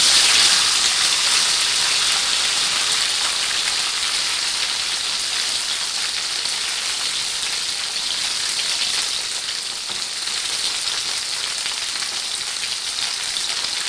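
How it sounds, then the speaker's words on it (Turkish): Soaked sun-dried tomatoes frying in hot oil make a continuous loud, close sizzle with fine crackle, steady for the whole stretch and easing slightly near the end, with no voices. "Islayıp Süzdüğüm domates kurularını yağın içerisine atacağım."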